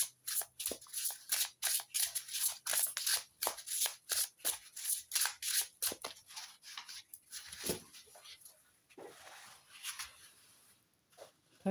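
A deck of tarot cards shuffled by hand, a rapid run of loud crisp riffling flicks that slow and thin out into softer, sparser card slides toward the end.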